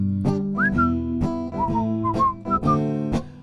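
A person whistles a tune alone and close by: clear, bright, melodic phrases with short gaps between notes and no talking.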